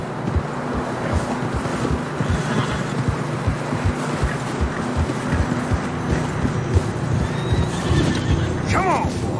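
Horses neighing and whinnying while trudging through deep fresh snow in Red Dead Redemption 2, with wind noise and muffled hoof steps underneath; a distinct whinny rises near the end.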